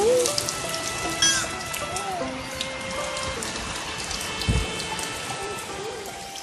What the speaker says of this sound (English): Look at that rain